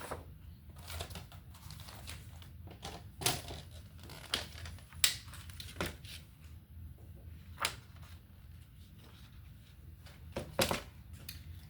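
Paper being trimmed for a handmade patriotic junk journal: a dozen or so sharp, close snips and crisp clicks at an uneven pace over a low steady room hum, with no talking.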